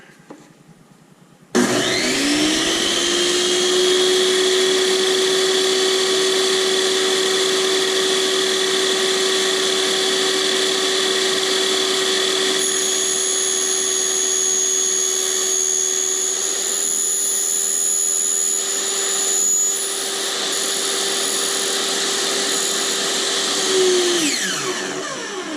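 A power tool cuts through a rocket nosecone tube for a G12 avionics bay, starting abruptly and holding a loud, steady high whine with a strong sustained tone for over twenty seconds before stopping near the end.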